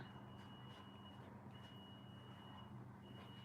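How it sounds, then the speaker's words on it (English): A high, steady electronic beep repeats in long tones over a constant low hum, sounding like an alarm or machine signal nearby. "What is that beeping?"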